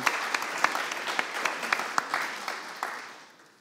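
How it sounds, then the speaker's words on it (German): Audience applause at a Munich amateur radio conference, moderate clapping from a hall with a few sharp individual claps standing out, slowly fading toward the end. "Es ist, glaube ich, auch ein Applaus wert"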